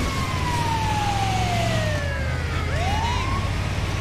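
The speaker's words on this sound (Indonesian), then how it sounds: "Ambulan lewat pada minggir." An ambulance siren in the video game GTA 5 wails in long falling and rising sweeps over a steady low rumble of traffic, loud and close, with no talking.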